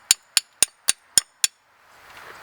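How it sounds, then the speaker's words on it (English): A hammer taps a seized rear brake slide pin on a 1992–2001 Toyota Camry, six sharp metallic strikes in an even rhythm, loud and close, then a faint rustle afterward. "a few taps with a hammer should unseize it from its housing"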